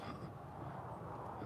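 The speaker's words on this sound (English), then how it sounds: "I'm just hearing a loud plane" A plane passes overhead out of sight, heard as a faint, steady low rumble with a soft airy hiss throughout.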